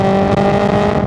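A Honda S2000's naturally aspirated VTEC engine, held loud at high revs as a sustained buzzing drone with strong engine harmonics, close and dominant, with no talking.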